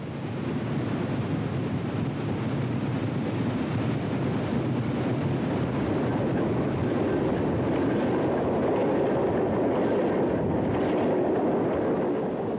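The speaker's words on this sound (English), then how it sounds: "Another coal train, this one headed up by 2329." Steady, dense rumble of a heavy Chesapeake and Ohio steam locomotive hauling a coal train past, continuous and loud with a broad roaring wash and no voices.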